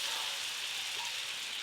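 Butter sizzles on a hot tawa griddle, a steady soft hiss that stays even and quiet throughout with no talking.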